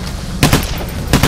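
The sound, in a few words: gunshots in the video game Payday: The Heist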